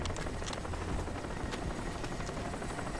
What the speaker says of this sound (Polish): Helikopter lata.